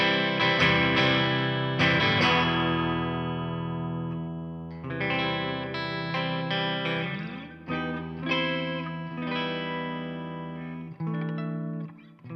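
A Gretsch G5426 Electromatic Jet Club electric guitar on the neck pickup plays clean, sustained jazz notes and chords with a touch of chorus and reverb, ringing out in a relaxed, unhurried phrase.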